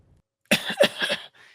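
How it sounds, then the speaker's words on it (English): Someone coughs a few times in a short, harsh cluster, close and fairly loud, followed by a faint trailing breath against an otherwise quiet background. "Some fucking coughing in the background."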